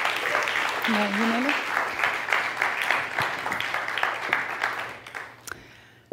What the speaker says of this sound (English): Can I have a big round of applause for Arthur Mol?